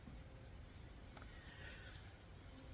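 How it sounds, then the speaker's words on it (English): A faint cricket chirps in a steady, high trill against quiet background hiss. "That one cricket. Never wearies. It just keeps on cricketing."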